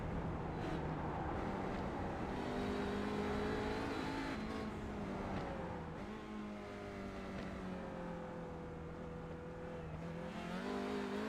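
A front-wheel-drive TCR race car at Mid-Ohio, heard from onboard, howls loudly and continuously, its engine note rising and dropping through gear changes and lifts off the throttle.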